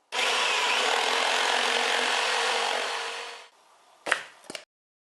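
Close, continuous abrasive rasp of sanding on an MDF edge for several seconds, fading out, followed by a couple of short knocks and scrapes.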